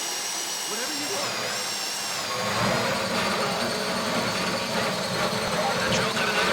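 A power drill whines as it bores into a safe deposit box during a bank heist in GTA V. The steady, loud mechanical drone grows heavier partway through, under voices talking.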